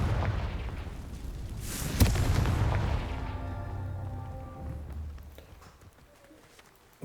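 A Confringo blasting spell detonating in Hogwarts Legacy, a sharp burst followed by a rumbling explosion that rolls on and slowly fades, with a game engine-like drone trailing behind.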